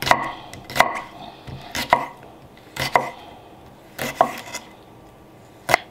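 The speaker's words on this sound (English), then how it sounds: "I'm going to just cut these into small pieces" A knife chops cucumbers into small bite-sized pieces on a board, about seven sharp, distinct cuts spaced irregularly, close and clear with no talk.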